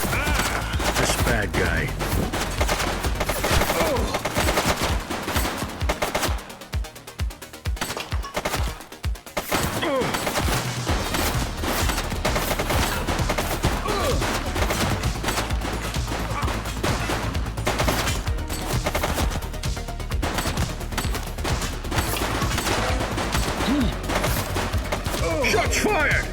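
Dense, rapid gunfire fills a police drama scene, with loud bursts and fusillades of shots nearly continuous, a brief thinner stretch of separate cracks in the middle, and a voice speaking briefly over the shooting.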